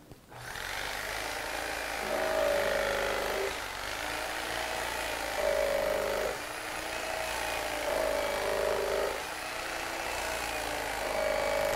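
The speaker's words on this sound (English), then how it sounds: "now I'll use the electric knife to make some just beautiful slices" An electric knife carves a lobe of turkey into slices, its motor whining steadily at close range, the pitch shifting in repeated cycles as the blade saws through the meat.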